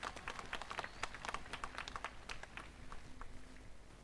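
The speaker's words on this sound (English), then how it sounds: "Let us give her another big round of applause." An audience claps at a university graduation ceremony, a busy, overlapping patter of many hands that thins toward the end, heard at moderate level in a large space.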